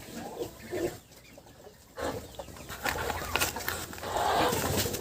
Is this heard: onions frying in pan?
no